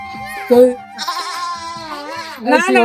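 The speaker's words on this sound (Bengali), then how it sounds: "ওটা কি ছাগল" A goat bleats close by in a quavering, drawn-out call near a village shop, with children and adults talking around it.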